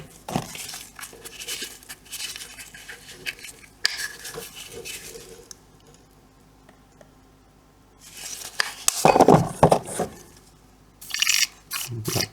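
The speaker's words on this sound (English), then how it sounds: "I know it's a lazy method to mix up your paint" Miniature paint stirred and mixed in a small cup, a bristly rubbing and tapping that comes in bursts with quiet pauses, loudest near the end, close and alone.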